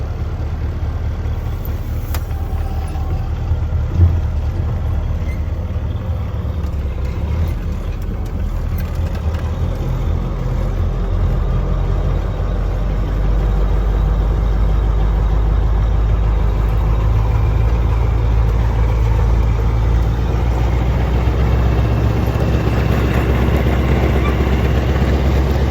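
A tipper truck's engine runs steadily on a farm during harvest, a low continuous rumble that grows slightly louder and heavier over the second half, with no clear speech.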